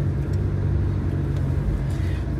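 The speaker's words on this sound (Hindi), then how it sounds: "अब देखो पहले गियर पे गाड़ी चढ़ रही है" A car grinds up a steep hill in first gear on a Munnar mountain road, a loud, steady low engine rumble with a strained, labouring drone and no letup throughout.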